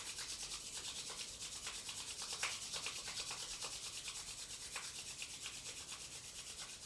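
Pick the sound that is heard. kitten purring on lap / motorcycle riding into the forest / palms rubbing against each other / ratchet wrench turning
palms rubbing against each other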